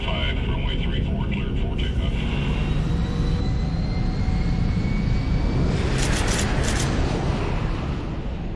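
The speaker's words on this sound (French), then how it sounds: "L'avion est ravitaillé en carburant et autorisé à décoller." A hijacked airliner takes off, its jet engines producing a continuous loud roar with a rising whine, while a voice narrates over the noise.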